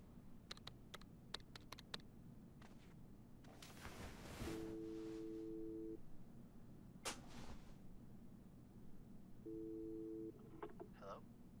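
Two stretches of steady dual-pitch telephone dialing tone from a phone call in the video game Life is Strange 2, each lasting over a second, separated by clicks and rustling game sounds in a quiet room.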